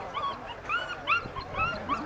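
A dog whimpers and whines in a series of short, high, pleading cries, close by, with no talking.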